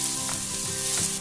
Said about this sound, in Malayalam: മീഡിയം ഫ്ലെയിമിൽ തന്നെ വെച്ച് സവോള നല്ല ബ്രൗൺ കളർ ആവുന്ന വരെ വറുത്തെടുക്കുക.